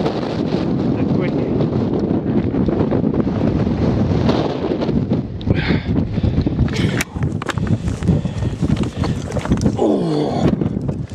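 Strong wind buffets the microphone on the exposed summit ridge of Coniston Old Man, a loud continuous roar with gusty surges throughout, and voices talk briefly under it.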